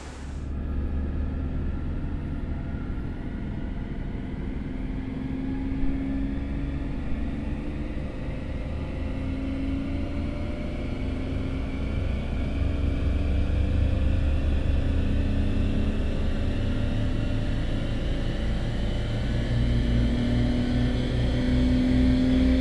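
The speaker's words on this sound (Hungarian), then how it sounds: "Volt a 12 hengeres BMW mérése, és gyönyörű hangja volt" A BMW 750i V12 engine at full throttle on a dyno roars steadily and loudly for the whole stretch, its pitch climbing slowly as revs rise, with no talk.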